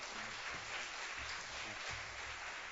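A church congregation applauds to welcome a professor to the front for a family seminar, a faint, steady patter of clapping heard at a distance.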